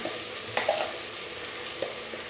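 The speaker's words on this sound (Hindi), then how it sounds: "अब मैं मसालों के साथ प्याज की भुनाई कर लेंगे।" Onions fry in a pan with spices on a lowered flame for a chana karela dish, giving a soft steady sizzle with a couple of light stirring knocks, close by.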